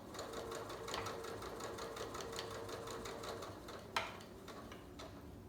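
A sewing machine runs steadily while stitching the flattened seams of pyjama pants, its fast, even ticking needle rhythm continuing close and fairly quiet, broken by one sharp click near the end.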